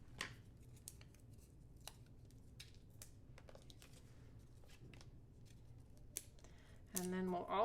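Scissors snip paper pieces for a handmade thank-you card, giving a series of small, crisp, close cuts spaced irregularly across a quiet room, with a louder rustle of paper handling near the end.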